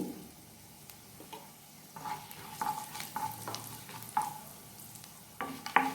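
Cumin seeds sizzling in hot oil for egg tava pulao, a quiet crackle that swells into sharper pops and spitting, with occasional stirring scrapes in the pan.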